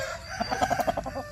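A Koshamo gamefowl gives a short burst of rapid clucking, several quick pulsed notes close by and moderately loud, with no talking over them.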